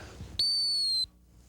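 A single sustained dog training whistle blast recalling a Labrador Retriever outdoors, loud and steady for about two thirds of a second, with a thin high tone and faint overtones, alone with no voice over it.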